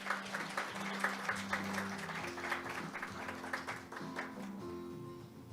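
A conference audience at an opening ceremony claps to welcome a speaker, a moderate, steady patter of applause that gradually thins out, over a sustained low musical tone.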